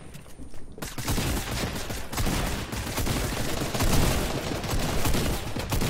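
Dense rapid gunfire in the video game Fortnite, a loud continuous barrage of overlapping shots lasting several seconds, close and without talk.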